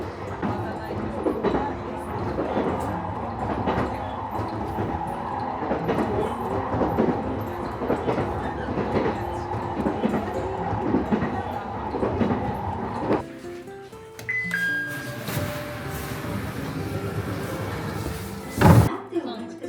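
Rhythmic clatter of a train on tracks near Yamadera, Yamagata, with people talking over it, then the rumble fades and a sharp knock follows.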